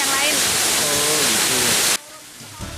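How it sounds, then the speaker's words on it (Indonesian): Tiu Teja, a 40-metre twin-stream waterfall fed from Segara Anak on Mount Rinjani, roars as a dense, loud wash of falling water for about two seconds before dropping abruptly to a quieter background. "Air terjun Tiu Teja sendiri memiliki dua aliran air."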